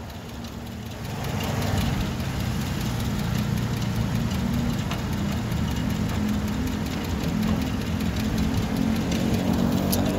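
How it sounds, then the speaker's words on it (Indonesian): A Ford Laser car engine idles with the bonnet open, a steady low rumble that swells in after about a second and then holds evenly, close by, with no speech. "Mesinnya juga halus pol."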